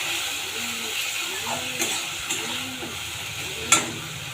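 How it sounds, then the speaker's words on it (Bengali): Spice masala being sautéed in a pan with a little sugar, a soft steady sizzle broken by a few scraping stirs and one sharper clink of a spoon near the end, no talking. "ভালো করে মশলাটাকে কষাবো"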